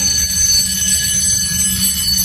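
Fire alarm bells in a Roblox game ring continuously, a loud metallic clanging rattle that goes on steadily with no break.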